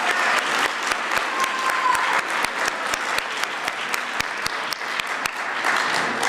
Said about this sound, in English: If we could please have one more round of applause as all of our contestants and their instructors come to the stage.